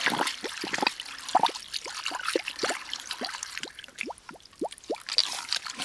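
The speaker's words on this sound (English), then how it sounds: "you see how the water dropped and it's bubbling, and now it's steady." Water gurgles and bubbles out of a tap, with rapid rising glugs and splashy trickling that gradually settles into a steadier flow.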